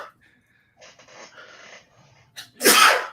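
Quiet breathy build-up leads into a single loud, sharp sneeze close by at the end.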